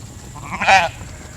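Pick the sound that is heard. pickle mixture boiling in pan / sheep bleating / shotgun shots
sheep bleating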